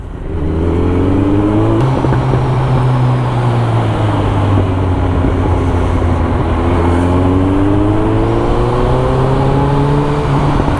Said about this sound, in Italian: Tutte ste macchine che vanno